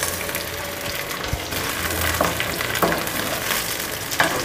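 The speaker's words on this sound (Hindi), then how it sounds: "जैसे ही ऑयल हमारा गर्म होगा तब हम भिंडियाँ फ्राई करेंगे।" Okra, half a kilo of bhindi for a dhaba-style masala, crackles and sizzles steadily in hot cooking oil, with a few sharper pops and stirring clatters breaking through the constant fry.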